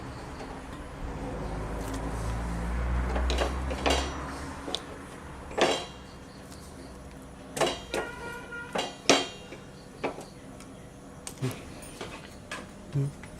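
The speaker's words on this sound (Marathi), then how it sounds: "हे जे बेसनाचं मिश्रण आहे ते मी आपण तेल लावलेल्या ताटलीमध्ये काढून घेणार आहे" Scattered metallic clinks and scrapes of a spoon against a pan and plate as a besan (gram flour) mixture is scraped out onto an oiled plate, with a low hum fading early on.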